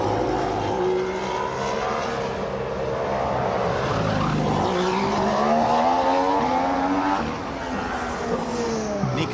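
A Formula 1 car, Rosberg's 2014 racer, screams down the pit straight, its high engine note rising through the gears and swelling loud and close before easing slightly near the end, with no voices over it.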